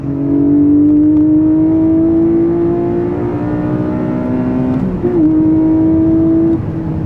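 A Porsche 718 Cayman GTS 4.0 engine revs loud and close, its tone climbing steadily, then briefly dropping around a shift before holding high again.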